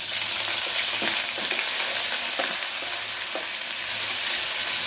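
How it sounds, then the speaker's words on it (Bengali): Onion paste sizzling and frying in a pan with garlic already browned, a steady loud hiss with occasional stirring clicks, no talking. "পেঁয়াজ বাটা দিয়ে দিলাম"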